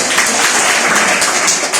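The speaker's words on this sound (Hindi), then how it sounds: "जितने यहाँ पे ग्रेड लीडर हैं उनके लिए जोरदार ताली" A crowd at a DXN business gathering breaks into loud, sustained applause, a dense and even clatter of many hands clapping throughout.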